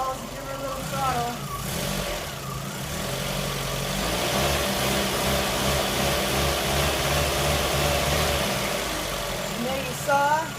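A Toyota RAV4 engine, under EGR valve and vacuum modulator testing, idles roughly with an uneven, stumbling rhythm and intermittent misfires, running steadily near and loud for several seconds, with brief throttle blips and some background voices.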